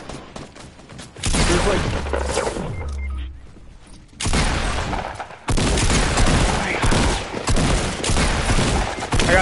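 Bursts of rapid gunfire from Fortnite ring out loud and close, with several sustained volleys separated by brief pauses and a person speaking briefly over the shooting.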